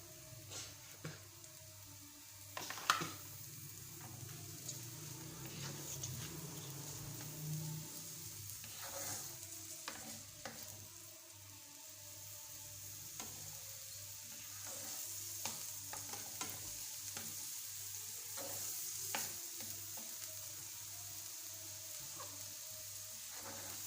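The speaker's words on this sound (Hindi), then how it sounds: "ये भी हम थोड़ा सा लहसुन जो कटा हुआ है ये भी इसके अंदर डाल देंगे" Chopped garlic sizzles softly in a pan for chicken lasagna, a low steady frying hiss with intermittent stirring scrapes and clicks throughout.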